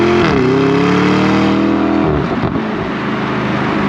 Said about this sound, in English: like you hear the exhaust kind of roaring